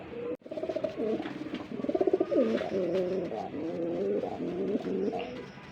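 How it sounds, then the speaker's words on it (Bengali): Raj Golla pigeons coo at a pigeon farm in repeated soft, throaty phrases. The calls run steadily and close, with faint background noise and no talk. "এটা গোল্লা রাজগোল্লা কবুতর"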